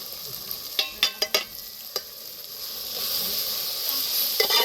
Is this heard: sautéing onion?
yes